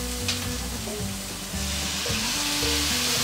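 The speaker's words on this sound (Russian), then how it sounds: "Так, теперь выливаем сюда соус." Sweet and sour sauce for Chinese-style pork hits a hot pan and sizzles loudly and continuously, with a burst of hissing and bubbling that swells as the pour continues and stirring clatters underneath.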